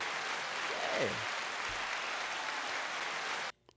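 A steady wash of clapping from a studio audience runs for about three and a half seconds at a modest level, a brief vocal sound rising near the start, before cutting off abruptly.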